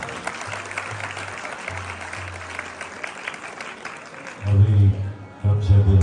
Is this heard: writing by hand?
no